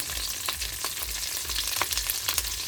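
Dried salted fish (tuyo) frying in a pan for supper, a steady close sizzle and crackle with scattered sharp pops throughout.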